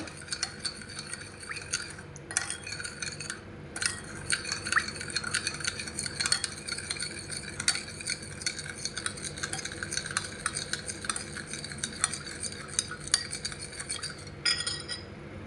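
Sugar being stirred in a pan with sesame oil until it melts, a continuous fine rattling and scraping of a utensil against metal, close and moderately quiet, with a few brief gaps.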